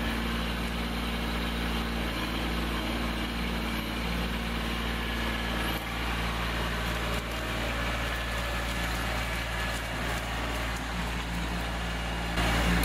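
A Toyota FJ Cruiser engine runs with a steady, moderately loud low drone throughout, no talk, as the truck is driven across a creek at a construction site.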